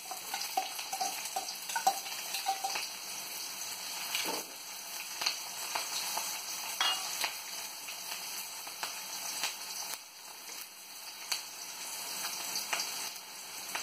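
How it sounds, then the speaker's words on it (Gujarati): Onions sautéing in a pan, a steady soft sizzle and crackle with occasional stirring scrapes, continuous and fairly quiet with no talking. "કાંદા લાઇટ પિંક થાય ત્યાં સુધી આપણે સાતડવાના છે એમાં"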